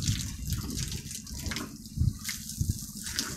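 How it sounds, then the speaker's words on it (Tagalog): Water gushing from a pipe at a pig farm, a steady close splashing flow with low thumping surges, continuous and loud with no talking. "Ito po yung tubig nang galing doon."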